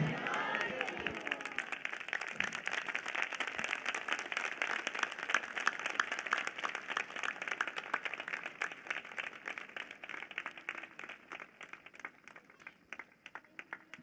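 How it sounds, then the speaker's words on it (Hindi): A congregation at a Prophet Bajinder Singh Ministry prayer gathering claps hard and continuously in thanks, a dense, steady wash of many hands that stays loud for the whole stretch and thins slightly toward the end. "जोरदार ताली बजाकर धन्यवाद दें और कहें परमेश्वर मैं आपको धन्यवाद देता हूं।"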